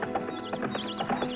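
Horse hooves clip-clop in a steady, fairly close rhythm, with a whinny-like warbling tone rising and falling above them, no talking.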